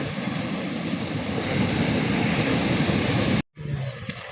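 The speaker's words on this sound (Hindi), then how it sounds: "समुद्र के पानी की आवाज़ सुने" Sea waves wash in a continuous loud roar at Dwarka beach on the Gujarat coast, close and dense, cut by a brief dropout near the end before the surf resumes.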